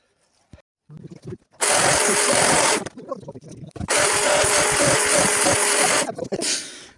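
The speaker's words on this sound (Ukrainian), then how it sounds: "пилка має два режими. Звичайний. Включайся. І економ. Зараз ріжу у звичайному режимі, економ не використовую." A Husqvarna battery chainsaw, running a battery repacked from 4 Ah to 6.6 Ah, cuts wood in normal mode. It gives three loud, close bursts of high whining cutting with short pauses between them, and the last burst is briefer.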